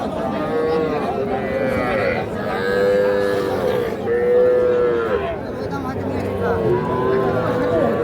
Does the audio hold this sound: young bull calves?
yes